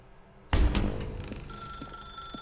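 In The Stanley Parable: Ultra Deluxe, a telephone begins ringing abruptly after a quiet moment, a loud, close metallic bell burst that decays into a sustained ringing tone.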